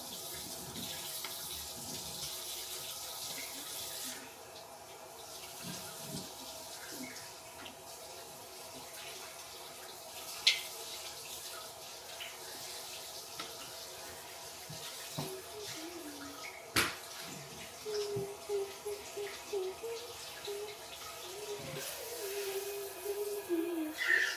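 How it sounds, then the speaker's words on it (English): A cup and spoon are rinsed under a running tap in a sink, water splashing softly and steadily at a quiet level, with a few small clinks toward the end. "I washed out the cup and the spoon."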